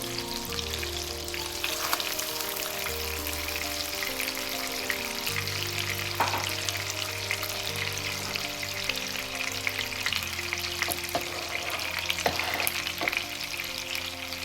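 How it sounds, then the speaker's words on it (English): Chicken pieces browning in a pan for an Italian chicken Marsala, frying with a steady, close sizzle that runs throughout, with a few brief clatters of stirring. "we're browning the chicken."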